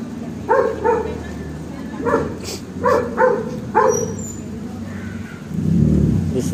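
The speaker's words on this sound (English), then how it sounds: "Street dogs." Street dogs bark outdoors, about five or six short, yappy barks spaced out at moderate distance, followed by a low muffled rumble, with people talking around them.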